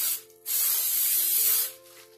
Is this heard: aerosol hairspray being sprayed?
yes